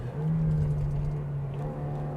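A Toyota Innova seven-seat MPV engine in a driving video game drones steadily at moderate loudness as it holds a gear while shifting up, with no talk.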